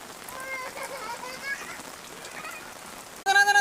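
Heavy rain pours steadily over a village, a dense, even hiss of drops on surfaces, with voices talking over it and a louder burst of speech at the very end.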